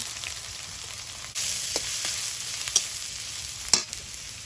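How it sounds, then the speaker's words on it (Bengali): Panch phoron spices, ginger, garlic and onion frying in hot oil in a kadai for aloo kosha, giving a steady bright sizzle that jumps louder partway through, with a few sharp spatter pops and utensil taps and no voices. "কড়াইতে তেল দিয়ে দেব। তেলে পাঁচফোড়ন দিয়ে দিয়েছি, তেলে আদা রসুন কোড়া, পেঁয়াজ কোচা,"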